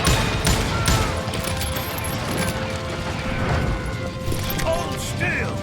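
Gunfire from the Western video game Call of Juarez Gunslinger, a dense fusillade of shots crackling over a steady background roar, loud and continuous for several seconds.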